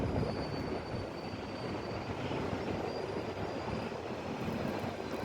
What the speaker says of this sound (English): And now I'm going to take that high-speed Lastishka train.